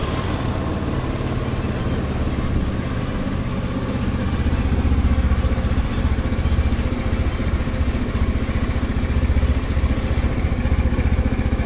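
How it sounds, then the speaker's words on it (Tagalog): An FKM Labi 150 scooter engine runs steadily at idle, a continuous buzzing rumble close by with slight surges, and no voices. "Ngayon naman guys, try natin ipa-start yung makina niya."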